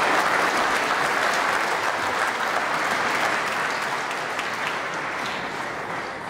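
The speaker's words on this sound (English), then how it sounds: "The applause there for frame ball." A snooker audience at the 2011 UK Championship quarter-final applauds a frame ball, steady close clapping from the crowd that holds throughout and tapers slightly toward the end.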